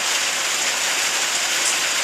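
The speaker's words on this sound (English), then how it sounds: "it's raining again" Steady rain pours down, a dense, even hiss of drops striking surfaces close by, loud and continuous with no voices.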